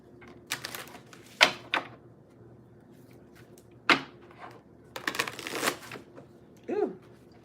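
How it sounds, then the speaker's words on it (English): A stiff deck of tarot cards being shuffled by hand, heard as a few separate bursts of riffling and slapping with quiet gaps between them, close and fairly crisp. "I messed that shuffle all up."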